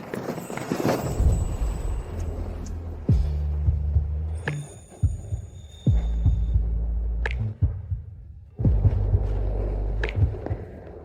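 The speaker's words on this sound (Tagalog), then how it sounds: "ang bilis ng tibok ng puso mo." A fast heartbeat sound effect thumps in deep, heavy pulses, coming in loud bursts with brief breaks between them, and with faint ringing tones and other effects mixed in.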